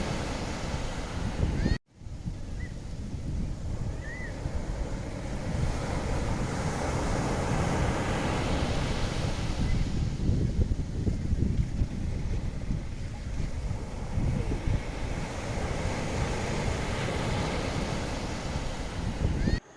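Steady broadband surf of sea waves washing onto the beach at Mandarmani, a continuous near roar with wind buffeting the microphone and a brief dropout early on.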